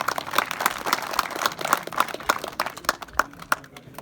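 An audience at a school prize ceremony claps for a student, a steady run of hand claps that rises and thins out over a few seconds.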